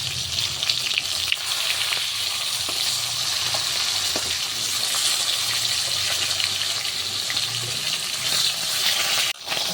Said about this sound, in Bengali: আর এদিকে মাছটা নুন হলুদ মাখিয়ে নিয়েছি, কড়া করে ভেজে নেবো মাছ দিয়ে।